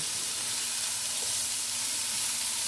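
Chard stems, carrots, celery and garlic sauté in a pan with a steady, close sizzling hiss that stays even from start to end, with no talking.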